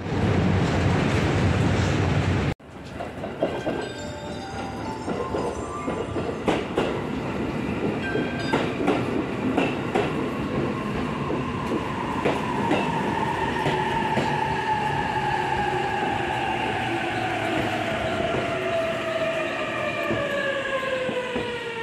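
A train rides toward Shinshirakawa in Japan with a steady, loud rumble of wheels and a long rising electric motor whine, after a brief burst of noise at the start.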